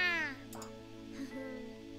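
A black cat meows in a video game, a single drawn-out tonal cry at close range that fades after a moment, followed by softer sounds over a steady low background.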